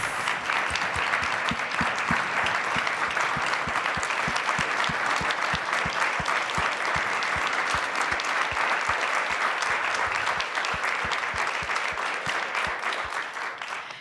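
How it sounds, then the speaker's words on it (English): A crowd at a children's legal advocacy event applauds and cheers, a dense, loud, steady wall of clapping that holds close for about fourteen seconds before easing slightly at the end. "my good friend, who you better clap and cheer for, Catherine Krebs."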